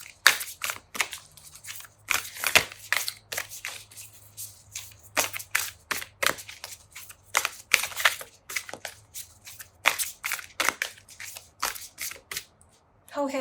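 Oracle cards are shuffled by hand for a tarot-style card pick in steady bursts of crisp riffling and flicking, each lasting a moment with short pauses between, close and fairly loud, with no talking.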